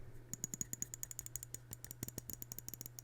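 Light, quick clicks from a Finalmouse Starlight-12 Phantom mouse modded with super-light ZMA switches, a dense irregular run of sharp crisp ticks, close and fairly quiet, with no talking.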